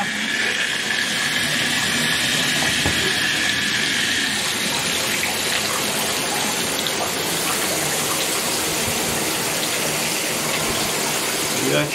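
A shower runs in a steady gushing stream after a Moen 1225 cartridge rebuild, water hissing continuously and evenly at close range.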